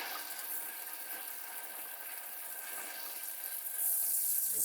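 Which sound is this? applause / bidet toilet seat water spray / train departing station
bidet toilet seat water spray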